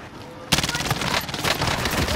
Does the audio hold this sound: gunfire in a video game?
yes